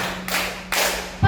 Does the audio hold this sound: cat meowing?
no